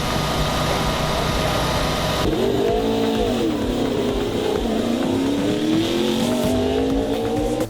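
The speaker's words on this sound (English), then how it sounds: "These cars are finally hitting the track." NASCAR race cars on track during qualifying, engines roaring steadily with shifting revs and rising and falling pitch, loud and continuous, with no talk over them.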